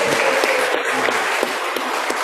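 Audience applause at a doctoral promotion exam ceremony, a dense steady patter of many hands clapping for about two seconds, fairly close and even throughout.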